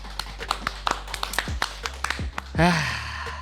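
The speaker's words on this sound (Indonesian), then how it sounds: "Tepuk tangan semuanya." Audience clapping at the opening of a finance education program, sparse separate claps over a low hum before a short swelling burst near the end.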